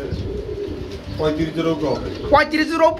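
Pigeons coo at a market stall where many pairs are sold, soft repeated throaty calls close by, mixed with people talking throughout.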